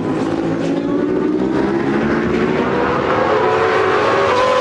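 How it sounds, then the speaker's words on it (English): Superbike racing motorcycles passing on the track at Phillip Island during a World Superbike race, a loud sustained engine roar with shifting pitch as bikes go by, steady and continuous. "And there goes number 11, Troy Corser, still holding on ahead of number 35, Carl Crutchlow."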